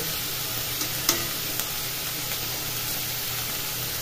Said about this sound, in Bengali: এখন পেঁয়াজ এখানে ভাজা হবে।